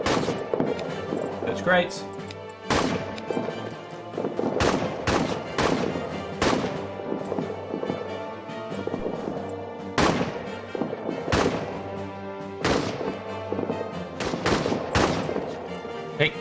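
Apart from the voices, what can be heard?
gunfire in a WWI trench video game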